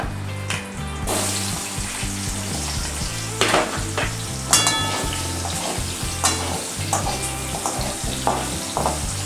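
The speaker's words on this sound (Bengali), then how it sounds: "পটল ভাজা তেলের মধ্যে আমি আলুগুলো ভেজে নেব।" Potatoes fry in oil already used for frying pointed gourd, giving a steady loud sizzle with intermittent stirring scrapes and clatters throughout.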